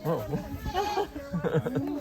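La Mancha goats bleat on a farm in Boonville, California, their wavering calls rising and falling over several seconds while people talk nearby.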